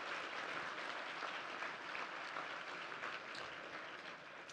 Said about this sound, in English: How about a big round of applause for all of those sponsors?